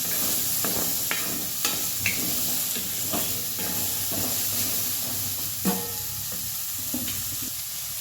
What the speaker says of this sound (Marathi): आता बटाटा पण भाजून घेऊया बटाटा भाजन घे